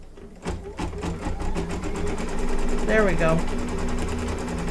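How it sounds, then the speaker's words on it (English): An embroidery machine stitches out an in-the-hoop gnome mug rug applique, a steady close whirring with fast rhythmic needle strokes that continue through a short spoken remark. "place your fabric down, face up, and then it's going to stitch it out"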